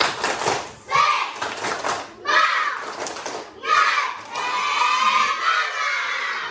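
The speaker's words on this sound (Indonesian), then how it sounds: "Terus tepuk semangat." Primary schoolchildren in a classroom clap in rhythmic bursts and shout a spirit chant together, loud and close, in several short waves.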